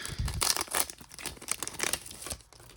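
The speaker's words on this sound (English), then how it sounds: "I can't even open up a pack of cards." A pack of 2025 Panini Professional Fighters League Contenders trading cards being torn open, with close crinkling and tearing of the foil wrapper in quick bursts that run nearly throughout.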